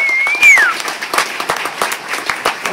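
An audience applauds at a comedy show, with steady, moderately loud clapping throughout and a brief whistle near the start.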